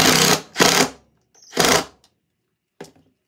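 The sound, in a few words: power drill driving screws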